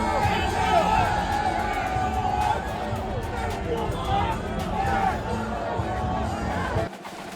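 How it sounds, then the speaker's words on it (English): Roaring stadium crowd at Allegiant Stadium in Las Vegas as the Raiders take the field, a dense, steady wash of cheering and babble filling the whole clip at high level before cutting off abruptly near the end. "Davis emerged from the tunnel into Allegiant Stadium with loud thank yous from a roaring crowd"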